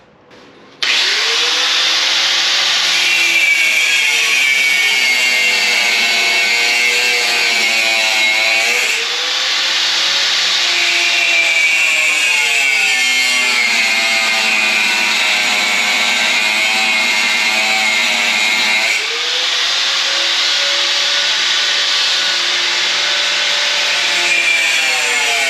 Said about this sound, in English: I am going to get the cutoff wheel out